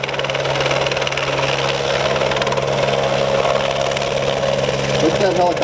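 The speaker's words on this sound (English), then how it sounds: "Look at that helicopter, absolutely stabilized right there." A CHP helicopter hovers at a 2009 air show, its rotor and engine making a steady loud whirring drone throughout while a voice talks over it.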